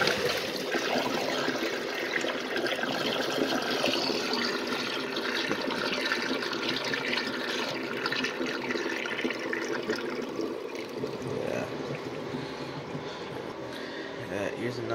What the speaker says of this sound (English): Alright, here's the flush.